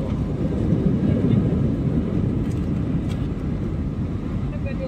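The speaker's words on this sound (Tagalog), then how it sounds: "Lakas ng preno ng AirAsia." An AirAsia airliner brakes hard after touchdown, producing a loud, steady broadband roar of engines and rolling that holds for several seconds from inside the cabin.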